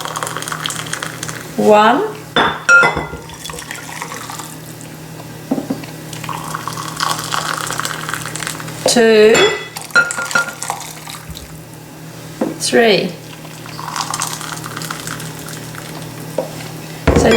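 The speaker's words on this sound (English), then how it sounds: "Now we need to add 3 cups of hot water." Three cups of just-boiled hot water are poured into a vegan cheese mixture in a home kitchen. The liquid splashes in short bursts while a voice counts aloud and talks over it.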